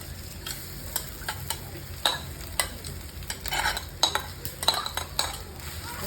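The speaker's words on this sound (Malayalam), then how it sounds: "ആ സമയം നോക്കി നമുക്ക് ഈ ഉരുളക്കിഴങ്ങെല്ലാം ഇതിന് തൊട്ട് ഇട്ട് കൊടുക്കണം." Potatoes stirred into green chilli frying in a pan for Mumbai vada pav, giving a steady oil sizzle broken by repeated sharp scrapes and clinks of a spoon against the pan, close and alone without talk.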